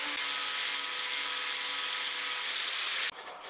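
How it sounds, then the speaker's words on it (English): An angle grinder with a flap sanding disc shapes a knife blade made from a pry bar, a loud, close, steady abrasive whir and rasp that cuts off abruptly near the end. "Back to the grinder, but now I'm using a flap sanding disc."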